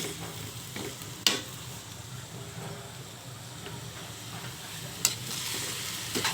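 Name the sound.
pork sautéing with onion, garlic and ginger for sinigang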